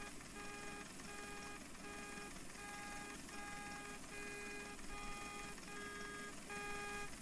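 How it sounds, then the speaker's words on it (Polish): A faint, regular electronic beeping repeats about every half second over a steady broadband rumble, the kind of warning tone heard around a farm machine during harvest. "Pikanie."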